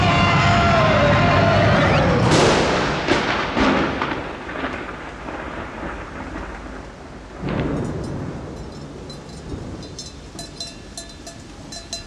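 A thunder and lightning storm sound effect opens with a loud crack and long rolling thunder that rumbles and fades, then a second, softer rumble swells later over a light background of falling rain.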